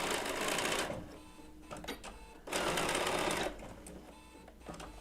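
Bernina B790 PRO sewing machine fitted with a 20C open toe foot stitching wool applique, running in two quiet whirring bursts separated by pauses with faint handling sounds.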